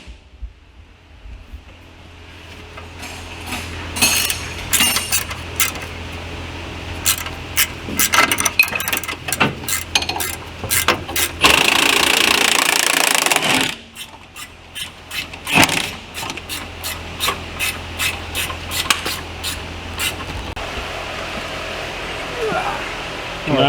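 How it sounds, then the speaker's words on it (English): Angle grinder cutting a rusty bracket off the frame of an F-350 mud truck during a tear down, a harsh continuous grinding whine with a steady loud burst in the middle, broken by clanks and scraping, with people talking outdoors. "I might as well go and get a grinder out and cut that off"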